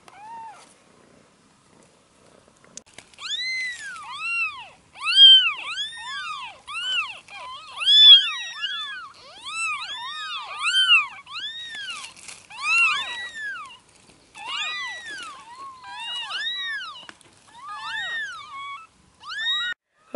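Kittens under a car mewing repeatedly in high, rising-falling cries, several overlapping voices calling close by in quick succession, with no talking.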